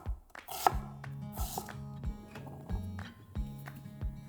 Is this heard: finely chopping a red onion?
yes